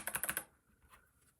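Quick, crisp clicks of typing on an 8BitDo Retro mechanical keyboard, a short burst of about five loud keystrokes close up, then fading to faint background noise.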